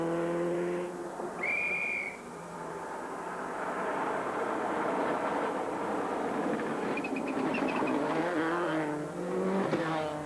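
Austin McHale's WRC rally car at full pace on a tarmac stage at the Cork 20 International Rally, engine howling and shifting pitch through gear changes, with brief high tire squeal and whistle-like tones.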